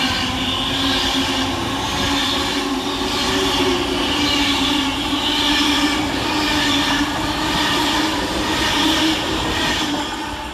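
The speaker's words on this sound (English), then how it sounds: "Next to pass through the station is 390130, working 9P47 for Avanti West Coast from London Euston to Blackpool North" Avanti West Coast Pendolino 390130 passes through Duddeston station at speed on a London Euston to Blackpool North service, a loud, steady roar with rhythmic wheel beats and metallic squeal throughout, no voices.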